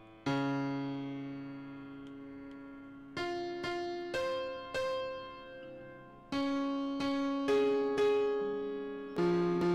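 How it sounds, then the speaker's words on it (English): Out-of-tune piano in the puzzle video game Agent A, a series of sustained notes and chords struck one after another with gaps, each ringing and decaying, played quietly with no talking. "this piano is way out of tune"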